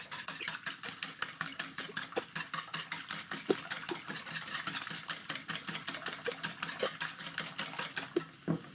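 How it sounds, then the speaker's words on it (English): Four eggs whisked briskly in a bowl for a carbonara doria, giving a fast, steady run of light clinking strokes that carries on evenly for several seconds without any talking. "I just gotta whisk the eggs up."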